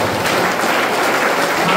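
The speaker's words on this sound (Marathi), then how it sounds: "टाळ्या वाजव देवाला." An audience claps at a couples' church retreat: a dense, even patter of many hands that continues without a break for a couple of seconds.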